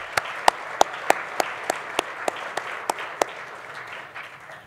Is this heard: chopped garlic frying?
no